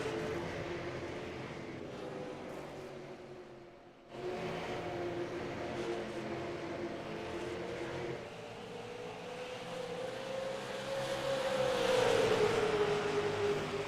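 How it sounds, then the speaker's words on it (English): Super Late Model race car engines in the iRacing video game at Phoenix Raceway drone steadily, then rise in pitch as they rev and accelerate, a continuous motor roar with no voices. "The Super Late Model Series car charging right out of the gate."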